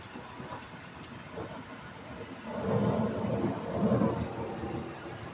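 Thunder rolls in a deep, distant rumble during rainfall in Riyadh, Saudi Arabia, swelling louder in the second half over a steady rain hiss, with no voices.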